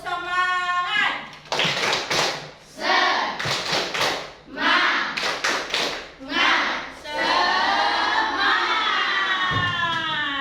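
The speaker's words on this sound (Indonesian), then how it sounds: "mari kita dulu tepuk semangat" A classroom of students performs the rhythmic 'tepuk semangat' chant, with bursts of group clapping alternating with loud shouted and sung voices in a lively, patterned cadence.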